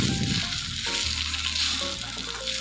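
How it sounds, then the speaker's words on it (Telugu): Smashed potatoes frying in a tablespoon of ghee in a pan for potato halwa, a steady close sizzle with occasional stirring scrapes, no talking. "సేమ్ ప్యాన్లో 1 టేబుల్ స్పూన్ నెయ్యి వేసి మనం ఇంతకుముందు స్మాష్ చేసి పెట్టుకున్న ఆలుని వేసుకొని వేయించుకోవాలి"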